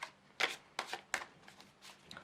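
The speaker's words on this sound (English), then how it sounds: "I'm just going to shuffle these cards" Tarot cards being shuffled by hand, a series of crisp riffling bursts in an uneven rhythm, close and fairly quiet, with no talking.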